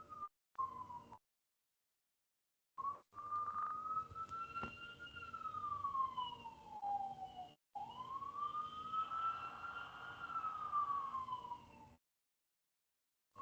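An ambulance siren wails past in a rising and falling sweep, fairly faint and distant outdoors, cutting in and out with brief gaps and no talk over it.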